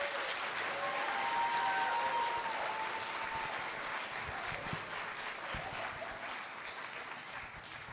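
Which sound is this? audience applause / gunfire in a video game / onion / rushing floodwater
audience applause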